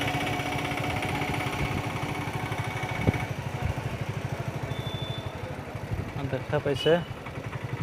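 A motorcycle engine chugs steadily while the bike is ridden through a flooded area in Nagaon, Assam, its low pulsing rumble running throughout under a voice.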